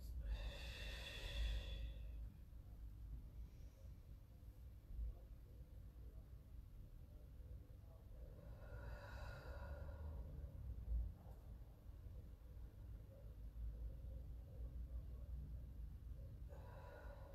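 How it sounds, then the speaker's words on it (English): Slow, deep breaths drawn in through the nose and let out through pursed lips during a Pilates session, with a few long audible breaths spaced several seconds apart over a steady background hiss. "as you're taking those nice deep breaths in and out"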